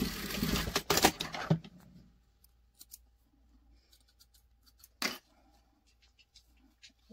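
Scissors snip thread while sewing a garment, a cluster of sharp close cuts at the start followed by quiet handling and one more distinct snip midway, with soft rustles of fabric in an otherwise quiet room.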